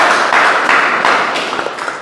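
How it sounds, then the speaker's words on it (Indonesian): Audience applause after a classroom demonstration of a car ignition coil and spark plug, steady dense clapping throughout two seconds, loud and close with no talk. "Tepuk tangan dong"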